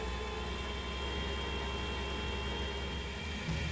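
A Climax BB5000 boring machine driven by a hydraulic power unit runs at higher speed, giving a steady, fairly quiet mechanical hum and hiss with a constant drone and no pauses.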